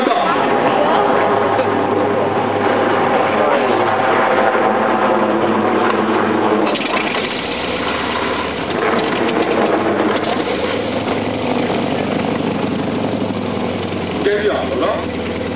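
Super Puma helicopter flying at the AERO 2009 airshow, a steady loud rotor and turbine roar that holds throughout, with a commentator speaking over the top.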